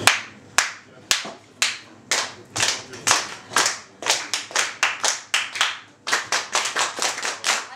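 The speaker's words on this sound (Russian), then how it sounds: "Давайте все вместе похлопаем такой ритм." An audience claps together in a loud, sharp rhythm at a live concert, with spaced single claps early on that turn into a quicker, steady pattern of repeated claps.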